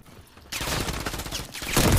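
Sniper rifle gunfire in Call of Duty MW3 multiplayer beta: a sudden loud shot erupts after a quiet start, followed by sustained crackling bursts and a heavier blast at the end.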